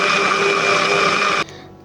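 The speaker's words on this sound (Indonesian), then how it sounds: "Mari kita blender dulu guys." An electric kitchen blender grinds bird's eye chilies, running as a loud steady whirring drone with a tonal motor hum before cutting off abruptly near the end, leaving a short quiet tail.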